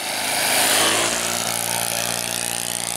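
An EcoTop Maracana RC plane with an OS FS 52 four-stroke nitro engine makes a slow flyby, its steady buzzing drone swelling as it nears and then easing slightly as it carries on past.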